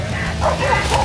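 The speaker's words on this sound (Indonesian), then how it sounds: "Anjing kita telah menggonggong" A dog barks and yips in a short, close burst during a night hunt near a cemetery, over rustling background noise.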